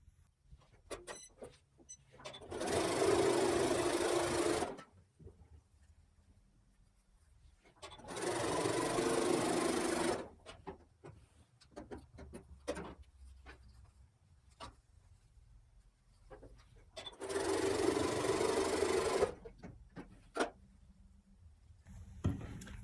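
A sewing machine stitches quilt pieces for a granny square quilt in three steady, close bursts of a few seconds each, separated by quiet pauses and light handling noise.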